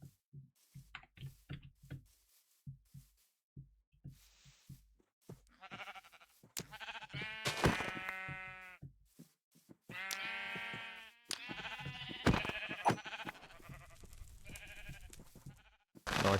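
Sheep in Minecraft bleat repeatedly over several seconds, the video game's blocky bleats stacked and overlapping with clicking game sounds, fairly loud and close, no talking.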